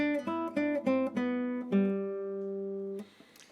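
Crisp plucked classical guitar notes in a quick run, each clearly articulated, ending on a sustained ringing note before fading into light noise.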